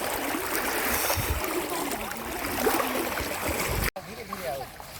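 Schoolchildren wade across a river with no bridge, the water rushing and splashing in a dense, continuous wash of flowing sound, close and steady, broken by a brief dropout near the end.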